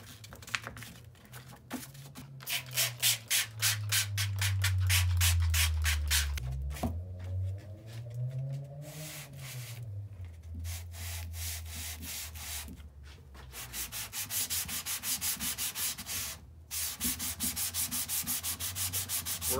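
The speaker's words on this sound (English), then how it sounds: "I'm going to put on this 1200 grit sandpaper on it." Hand sanding of plywood with 1200 grit sandpaper: close, rhythmic back-and-forth rasping strokes, sometimes quick and choppy, sometimes long and smooth, with no talking.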